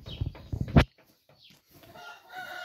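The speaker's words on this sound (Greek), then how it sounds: "Μαζί με αυτές τις δύο νεαρές κότες αυγοπαραγωγής special χρώματος." Young egg-laying hens in a small farm flock give a few loud, close, strident calls in quick succession, then fall to fainter clucks and murmurs. No voices.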